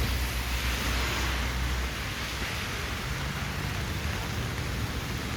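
Steady rain pours onto a street in Armenia, Colombia, a dense, even hiss of falling water that holds constant throughout with no breaks, no voices and no distinct drops.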